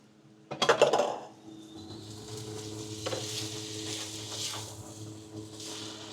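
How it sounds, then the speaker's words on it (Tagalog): Shiitake mushrooms hit a hot pan with a sudden loud sizzle and clatter, then settle into a steady, softer frying hiss with occasional stirring scrapes, cooking for a Kung Pao pasta. "pwede na natin ilagay yung shiitake mushroom para magisa ng maayos yung shiitake mushroom"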